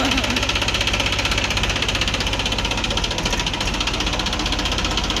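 A tractor engine runs steadily, a loud, even rumble with a fast chugging pulse that never lets up, while people talk over it.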